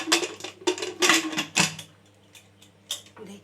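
A metal lid goes onto a khichuri pot on the stove with a few quick clanks and rattles close by, then the clatter settles into quiet room hiss with one last clink.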